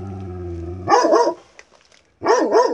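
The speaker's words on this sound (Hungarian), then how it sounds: "Morgott és támadóan ugatott ez a kutya a rettegéstől a megmentésére igyekvő állatvédőkre." A frightened dog on a chain growls low, then breaks into two sharp barking bursts separated by a brief pause, close and loud with no talking.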